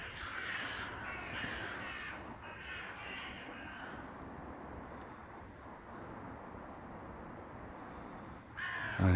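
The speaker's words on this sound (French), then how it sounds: "Sous la protection de mes amis les corbeaux." Crows caw repeatedly outdoors in the open countryside, a steady chorus of harsh calls at moderate distance over faint road traffic, with a brief louder rustle near the end.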